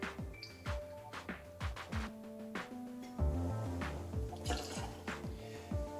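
Rye whiskey is poured into a cocktail shaker filled with ice, giving close liquid trickling and dripping with light clinks and knocks.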